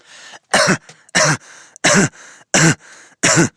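A man imitating a ridiculous, unusual cough: five harsh, rasping bursts in an even rhythm, close and loud, each separated by a short breathy wheeze, with no talking between them.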